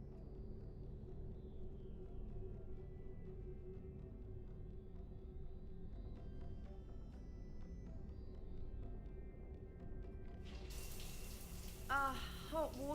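Shower water running in a Mass Effect 3 game scene, a steady low hiss and rumble of flowing water throughout, joined near the end by a brief high sound burst.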